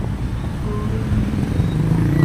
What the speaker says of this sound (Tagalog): Traffic kayo nila Lapu-Lapu guys.